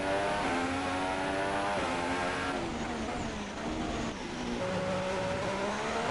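Formula 1 car engine in the F1 2016 racing game, a loud continuous high-pitched whine that climbs through the revs and shifts gears, with harmonic engine tones sweeping up and down across a flying lap.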